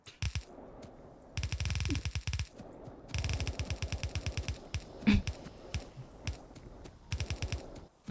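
Corner gun turret in Factorio firing at attacking enemies: rapid bursts of automatic fire, several distinct volleys of quick repeated shots separated by short pauses, fairly close and loud.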